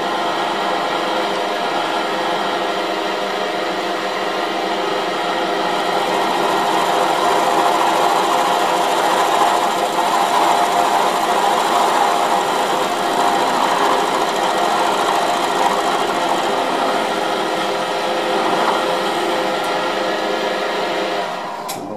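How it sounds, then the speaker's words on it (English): Milling machine cutting four flats onto a steel shaft held in a vise, producing a continuous loud whirring and grinding that swells slightly midway and holds steady with no speech. "so we'll mill 4 flats"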